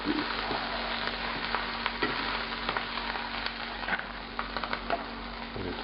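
Shrimp fry in oil in a restaurant-style pan for scampi, a steady loud sizzle with crackling pops and occasional scrapes as they are stirred and turned, no voices.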